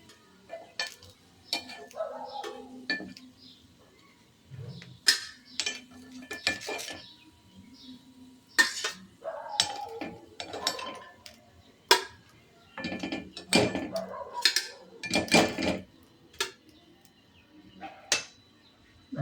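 Cooked paddu being lifted out of a paddu pan, with irregular close metallic scrapes, taps and clinks of a utensil against the pan's cavities, quiet between bursts, with occasional faint talk.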